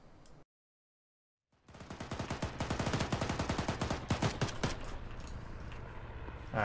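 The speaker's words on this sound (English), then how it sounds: "We got enemies shooting up close to where you're running." Sustained automatic gunfire from enemy soldiers in the Arma 3 military shooter, loud and dense rapid bursts following a short silent gap, rattling continuously for several seconds without speech.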